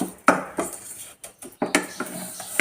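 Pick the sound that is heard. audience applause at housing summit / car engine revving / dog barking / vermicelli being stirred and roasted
vermicelli being stirred and roasted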